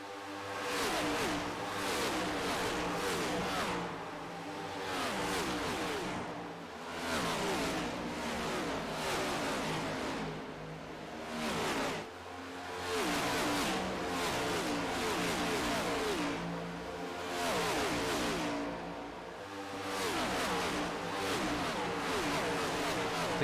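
Simulated NASCAR Next Gen race car engines roar at Michigan International Speedway in the iRacing game. The roar swells and dips in repeated waves as the pack passes, fairly quiet overall with no talking.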